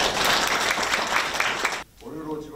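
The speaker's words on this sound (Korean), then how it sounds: "박수로 환영해 주시기 바랍니다" Warm applause from a ceremony audience at a Gwangju and South Jeonnam regional council awards event, filling the first two seconds before cutting off as a voice begins speaking.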